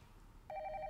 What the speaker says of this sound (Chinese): 先去接电话吧。